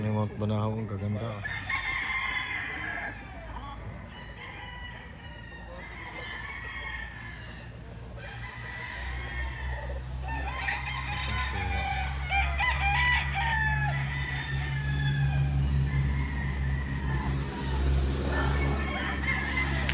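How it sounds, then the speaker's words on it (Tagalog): Roosters and hens on Mount Banahaw keep up repeated crowing and clucking from several birds, some near and some farther off, over a low steady background hum and occasional voices. "Ang manok ni Mount Banahaw ang gaganda."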